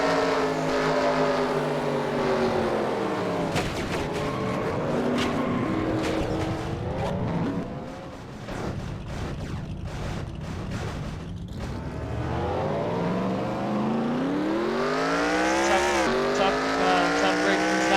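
Onboard the 31 car in a superspeedway race-sim video game, a loud engine drones continuously, its pitch sweeping up and down through shifts and speed changes, with tire squeal and a commentator's voice faintly underneath.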